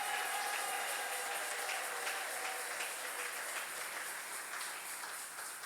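A church congregation applauds and acclaims the Lord during a service, a steady, dense wash of clapping and crowd noise that holds evenly throughout.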